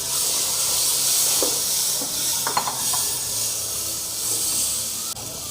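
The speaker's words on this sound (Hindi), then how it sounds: "और अब आपने इसमें टमाटर का पेस्ट डाल देना है।" Tomato paste fries in tawa chicken masala with a loud, steady sizzling hiss throughout, a few faint clinks of utensils poking through.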